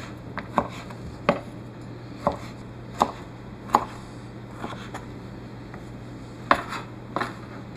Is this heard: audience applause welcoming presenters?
no